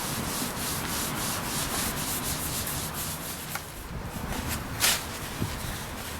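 Hand sanding of a polyurethane finish on a vintage Dayton wood table: a steady, close scratchy rubbing that continues throughout, with a few small knocks and one brief louder scrape near the end.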